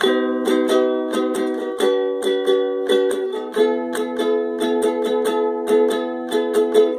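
Ukulele strumming the chorus chords of a song, even repeated down-strokes with bright ringing chords, close and alone.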